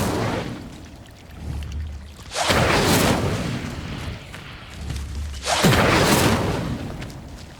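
Two bursts of the Incendio fire spell from Hogwarts Legacy, each a loud, roaring whoosh lasting about a second, the second slightly stronger, over a low ambient game backdrop with no voices.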